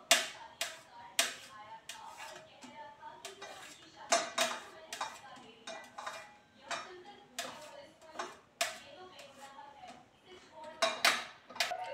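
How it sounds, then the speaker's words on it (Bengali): A knife chops mushrooms into small pieces on a board, sharp regular taps in a steady rhythm, close and clear, with a few heavier knocks between them. "এবার মাশরুমগুলোকে একদম ছোট ছোট করে কেটে নেব।"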